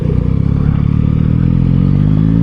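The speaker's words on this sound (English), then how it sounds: "See what it's like to U-turn this bike." A 2022 Yamaha MT-09 V3 motorcycle engine rumbles steadily at close range during a slow U-turn, a throbbing low idle-to-throttle drone with slight rising pitch toward the end.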